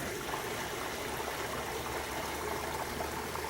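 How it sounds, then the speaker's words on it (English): A small waterfall on a stream near Mirror Lake trickles and splashes in a steady, unbroken rush of water, close by, with no voices. "Looks like a little dam again of debris. Another little waterfall."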